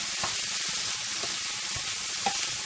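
Chicken and bacon brown in a frying pan, giving a steady, close hiss of sizzling fat with faint soft stirring scrapes throughout.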